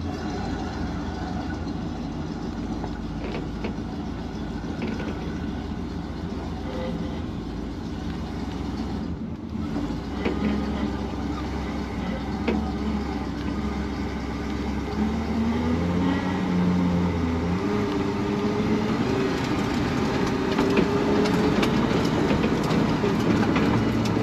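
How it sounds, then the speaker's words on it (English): A 1974 GMC Sierra Grand 3+3 dually pickup with a 454 big block V8 drives down the street, its steady rumbling engine drone rising slightly toward the end while the carburetor pops faintly underneath. "it's just popping a little bit through the carburetor there"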